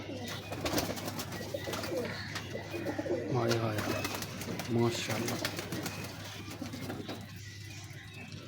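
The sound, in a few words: Ferozpuri pigeon cooing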